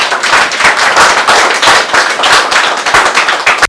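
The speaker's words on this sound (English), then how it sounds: "let's clap for management." Hands clap loudly and quickly in a close, crackling burst as people at an Adventist community gathering applaud the management, the sharp claps running densely until a sudden stop.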